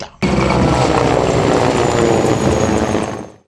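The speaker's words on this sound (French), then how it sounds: "plusieurs passages dans le ciel d'une escadrille d'hélicoptères de combat de type Mi-35 et Mi-24" A squadron of Mi-35 and Mi-24 combat helicopters passes overhead during an Independence Day celebration, a loud, sustained rotor roar that starts abruptly, holds steady, then fades at the end.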